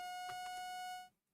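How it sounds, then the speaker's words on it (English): A WeatherWise weather-alert app sounds its severe thunderstorm warning: one sustained electronic beep, clear and close, lasting about a second before cutting off to silence. "that's a severe thunderstorm warning beep"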